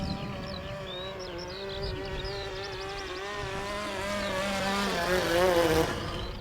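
A Seagull Funfly 3D model airplane with a Wankel engine runs with a steady, high, buzzing whine that holds throughout and swells slightly louder toward the end.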